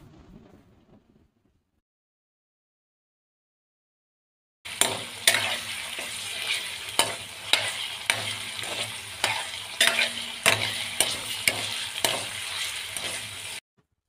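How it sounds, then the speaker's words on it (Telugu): Ginger garlic paste sizzles in a pan while being stirred for a mutton curry, with steady frying hiss and regular scrapes of a spoon close up. The cooking starts after several seconds of near silence. "అల్లం వెల్లుల్లి పేస్ట్ని బాగా వేగనిద్దాము"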